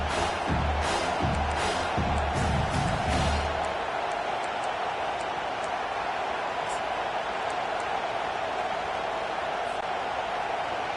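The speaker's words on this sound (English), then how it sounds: "this crowd will blow out a vocal cord to help this defense" Roaring stadium crowd in an NCAA football video game, a dense steady wall of cheering that runs throughout, with a commentator talking over the first few seconds.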